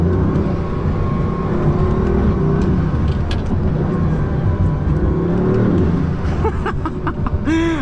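A Bugatti Veyron accelerates hard along an open stretch of road, its engine a steady, loud, continuous roar heard from inside the car with no talking.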